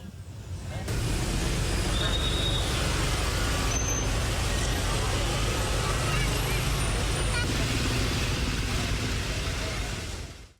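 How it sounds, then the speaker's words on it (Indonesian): Busy traffic of private cars and motorbikes on Malioboro street in Jogja, a dense, continuous roadway roar with passing vehicles and occasional brief high squeals, steady from start to finish. "ruas jalan Malioboro juga padat didominasi kendaraan pribadi"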